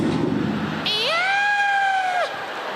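A comedian's voice imitates a nervous cat, giving one drawn-out, wavering meow close and loud, with brief crowd noise before it.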